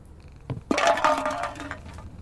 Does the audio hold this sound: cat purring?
yes